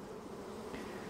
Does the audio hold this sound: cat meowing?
no